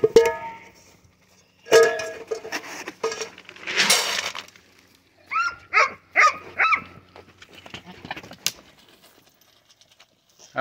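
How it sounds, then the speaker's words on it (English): A young livestock guardian puppy barking outdoors in a goat paddock, giving scattered sharp yips and barks in short bursts separated by quiet gaps. "We got a guardian pup out here."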